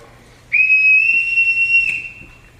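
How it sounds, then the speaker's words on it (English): A single loud, sustained whistle blast, steady and shrill for about a second and a half, sounded on a stage during a high school drama production of The Sound of Music to summon a household. "Everyone in this house answers to a whistle."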